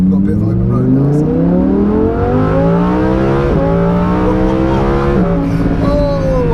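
A 640 BHP Lamborghini Huracan Performante accelerates hard on open road, its engine note climbing steadily through the gears with two quick upshifts, loud and close from inside the cabin.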